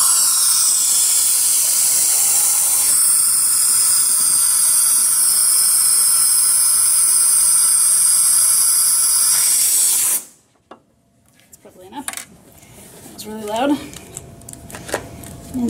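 A school lab air jet blows compressed air in a loud, steady hiss that runs for about ten seconds and cuts off abruptly, followed by quieter handling clicks and faint talking.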